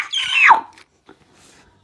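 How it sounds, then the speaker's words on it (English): Shrill scream in a Cars racing video game, a loud rising-then-falling squeal lasting about half a second, followed by near silence with faint clicks. "What was that scream?"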